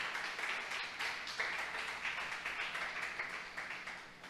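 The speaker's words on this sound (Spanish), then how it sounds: "Vamos a darle un aplauso al Señor" Church congregation applauding during a Spanish-language sermon, a soft, fairly distant wash of steady clapping that carries on for several seconds without a break.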